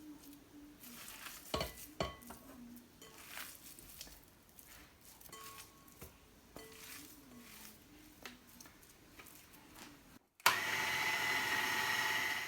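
Mutton mince fries in a pan with onion, garlic and ginger, soft sizzling under repeated stirring and scraping, close, then a louder steady sizzle near the end.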